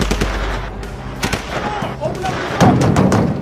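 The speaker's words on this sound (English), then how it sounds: "Repeated gunfire echoed through Washington, D.C. police headquarters." Repeated gunshots crack out in quick bursts, loud and echoing inside a police headquarters in Washington, D.C., with shouting voices mixed in.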